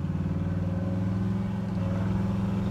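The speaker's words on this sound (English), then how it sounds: "Listen to that exhaust." A 1967 Chevrolet Impala with a big-block V8 idles close by, its exhaust giving a deep, steady, throbbing rumble with no voices over it.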